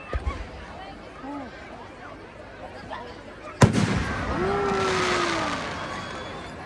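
Fireworks go off at a Dussehra Ravan Dahan celebration in Nainital: scattered pops and whistles, then a loud bang followed by a sustained roar of crackling bursts, with crowd voices throughout.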